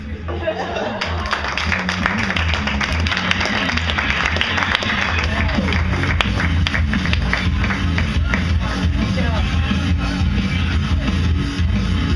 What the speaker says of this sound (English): round of applause for he and I